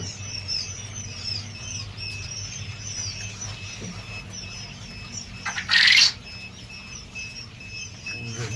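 Quail chicks give faint, high, repeated peeping chirps against a quiet background, with a short louder rustling burst in the middle.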